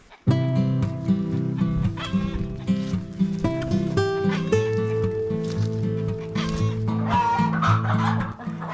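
Inside a henhouse, many chickens cluck and call over one another in a dense, continuous, close chorus.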